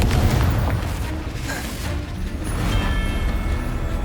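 Confringo blasting spell explosions in the Hogwarts Legacy video game land as a loud, rumbling boom with crackling debris, sustained over a few seconds with no talk.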